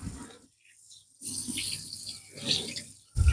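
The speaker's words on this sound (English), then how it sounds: "Just gonna rinse my salmon off for a second." Kitchen tap water runs into a sink while salmon is rinsed under it, a splashing, hissing stream that starts, pauses and resumes close by.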